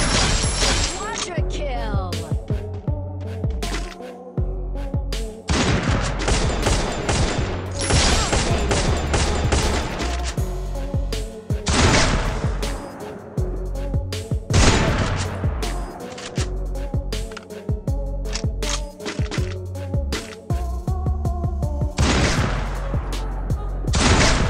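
Video game gunfire from a sniper rifle and an MA2B, with loud, close bursts of rapid shots and single heavy cracks repeating throughout, mixed with game effects and voices.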